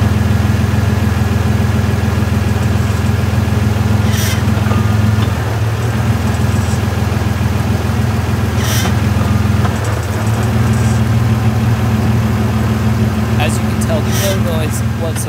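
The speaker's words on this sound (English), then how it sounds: "You can hear my clutch pedal shifting through the gears to get up to a higher speed" Toyota Tacoma truck with a new drive line carrier bearing, driving and shifting up through the gears: a loud, steady engine drone that dips twice at the gear changes and then resumes.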